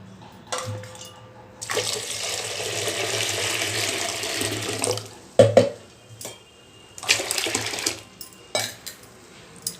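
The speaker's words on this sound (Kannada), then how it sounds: "ಈಗ ಇದಕ್ಕೆ ನೀರು ಸೇರಿಸ್ತೀನಿ." Tap water gushes into a drink being made, a steady running stream for a few seconds, followed by clinks of metal utensils and dishes and shorter splashes of water near a kitchen sink.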